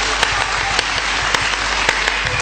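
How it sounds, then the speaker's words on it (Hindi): Dense, steady applause from an audience, loud and continuous through the short stretch, with a few sharper individual claps standing out. "एक बार तालियां वालियां बजा करके बताए मेरे को"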